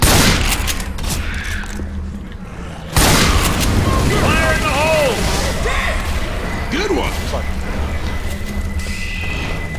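A thrown explosive detonates in the zombie shooter game Left 4 Dead 2 with a loud, sudden boom that rolls into sustained rumbling game noise, while several players talk over the din.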